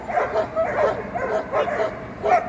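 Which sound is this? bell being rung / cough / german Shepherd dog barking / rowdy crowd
german Shepherd dog barking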